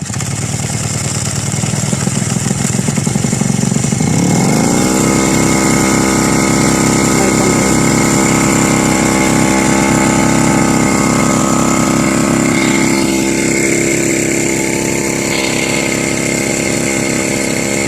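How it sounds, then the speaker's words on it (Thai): An old small two-stroke brush cutter engine, rigged to pump water, revs up and settles into a loud, steady high-pitched drone, running continuously at close range with no talking. "เป็นเครื่องตัดหญ้า"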